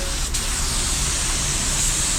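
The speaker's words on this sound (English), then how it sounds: "out of all the guns I've tested in the last couple weeks, I honestly think this one has the best spray pattern" A spray gun lays a heavier, slower coat of clearcoat onto a car, giving a steady broadband hiss that holds at an even level from start to finish.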